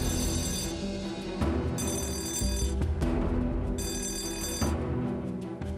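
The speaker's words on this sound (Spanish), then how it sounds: "De repente las alarmas empezaron a dispararse" Alarms ringing in a nuclear plant control room at Three Mile Island, loud harsh electronic bells blaring in bursts that stop and restart several times over a dense, continuous background.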